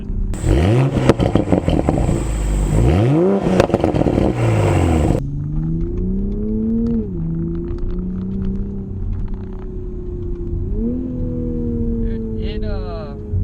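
A 2020 Toyota Supra engine revs hard and loud several times in rising and falling bursts, then settles into a lower steady drone that swells as it accelerates.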